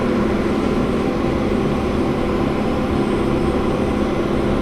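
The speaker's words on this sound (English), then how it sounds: "it's going to pump and purge of nitrogen" An EVG 810 plasma activation system pumps and purges nitrogen, a constant broadband roaring hiss with a low rumble, steady and near for several seconds with no voices.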